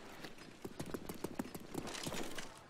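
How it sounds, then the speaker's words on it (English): Horse hooves clip-clop at a steady walking rhythm in a video game, fairly close and distinct over a soft ambient background, with no talk. "I'm going to take my majestic horse and ride"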